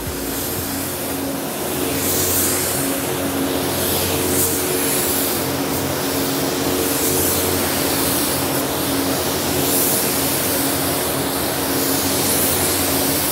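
Spray gun laying paint onto a car hood on a peeling Subaru STI, a steady broadband hiss running continuously for about thirteen seconds with a faint low hum underneath, close and loud with no talking.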